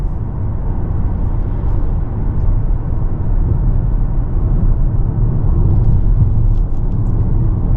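Engine of a 2024 Toyota Corolla LE Hybrid AWD with electronically controlled CVT, working under load while driving: a steady, loud, low rumbling drone inside the cabin, continuous throughout with no speech.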